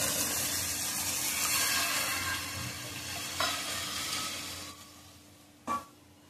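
Water is added to a hot pan of moong dal on a raised gas flame, a loud steady sizzle and bubbling hiss that gradually settles, with a couple of sharp clinks near the end.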